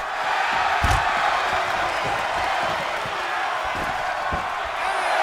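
A wrestling arena crowd in the video game WWE 2K24 keeps up a broad, steady roar of cheering, with sharp thuds and slams from the ring breaking through now and then.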